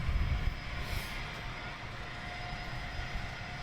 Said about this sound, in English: is that a military aircraft? Or government aircraft?